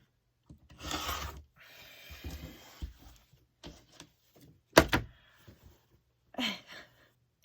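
Quilt fabric block trimmed along a ruler: short rubbing and scraping strokes of a cutter against the ruler and mat, then a sharp slicing swipe near the end and a final soft rasp.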